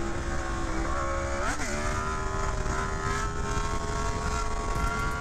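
Fast motorcycle passing at speed, a sustained whining engine note with a quick pitch sweep as it goes by, moderately loud against steady background noise.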